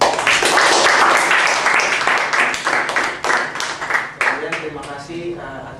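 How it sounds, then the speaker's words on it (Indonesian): An audience claps after a ward case presentation, starting with a thick burst of applause and then thinning into scattered, separate claps as it dies away. A voice can be heard briefly near the end. "Kita beri aplaus dulu"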